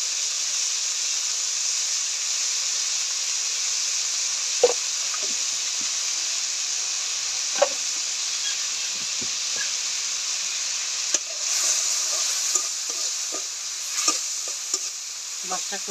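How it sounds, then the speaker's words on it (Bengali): Fish frying in a pan with salt and turmeric gives a steady, close sizzling hiss, broken by occasional sharp clinks and scrapes as a utensil stirs it. "মাছটা একটু ভালো করে ভাজা ভাজা করে নিলাম"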